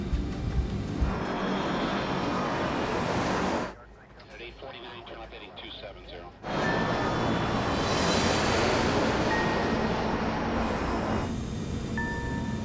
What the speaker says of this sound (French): Juste après l'envol, l'avion effectue un virage à gauche vers son premier point de navigation